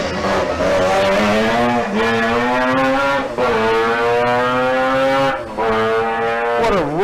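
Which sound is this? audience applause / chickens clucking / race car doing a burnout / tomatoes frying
race car doing a burnout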